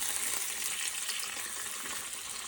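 Grouse frying in a pan with butter and a sprig of thyme gives a steady, dense sizzle that crackles evenly throughout, close and continuous with no voices.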